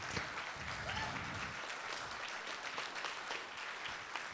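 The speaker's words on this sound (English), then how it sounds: "Can we have another round of applause for our two drum set players playing at the same time?" Sustained audience applause at a middle school band concert, full and even across the whole stretch, with some crowd murmur and a voice partly over it early on.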